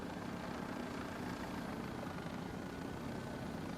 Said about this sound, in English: the chopper came and went too fast